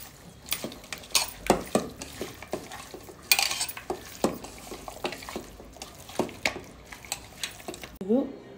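Marinated chicken being mixed by hand with salt in a bowl for a home-style KFC recipe: irregular clinks, scrapes and squelchy knocks in a steady rhythm, fairly close, ending with a brief sound of a voice.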